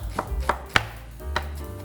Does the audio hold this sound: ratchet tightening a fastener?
no